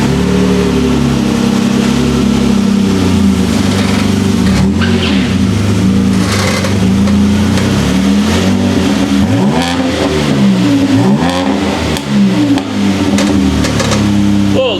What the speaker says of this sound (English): Big exhaust going on.